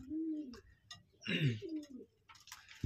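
Native pigeons coo on a rooftop farm, giving several soft, rolling calls close by, with light ticking and rustling in between.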